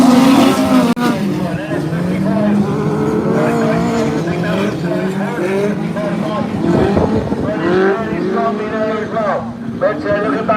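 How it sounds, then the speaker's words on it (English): Race cars run past on the track in the Men's Nationals 2021 finals at York, a steady engine roar with shifting pitch underneath continuous commentary from a voice. "But looking back at the lead, two cars, they're already starting to pull away from the chasing pack, and Sam Pinches goes through."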